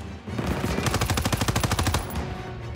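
Machine gun fire in the Call of Duty WWII Stronghold mission: a loud, fast burst of rapid, evenly spaced shots lasting over a second, then trailing off.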